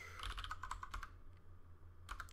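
Keys clatter on a computer keyboard as a password goes in, a quick run of close, soft taps for about a second, a brief pause, then a few more keystrokes.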